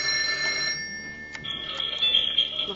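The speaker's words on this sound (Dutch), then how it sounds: "Wat was dat de telefoon?" A telephone rings in a room, a bright electronic trill that repeats in two bursts with a brief pause between, fairly loud and close, with no voices over it.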